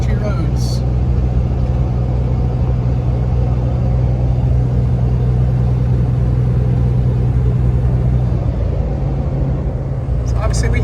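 A truck with a 24-valve 5.9 Cummins diesel cruises along a country road, a loud steady low engine drone and road rumble filling the cab throughout.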